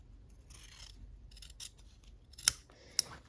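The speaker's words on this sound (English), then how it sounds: "sometimes it's just easier to use the scissors" Soft snipping and rasping of scissors working through quilting fabric, with two sharper clicks of the blades near the end; no talking.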